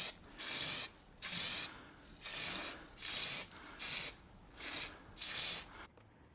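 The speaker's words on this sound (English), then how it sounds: "So this is spray putty." Spray putty hissing from an aerosol can inside a spray box while parts of a BMW 1150GS motorcycle are refinished: six short, even bursts of steady hiss with brief pauses between, close and moderately quiet, no talking.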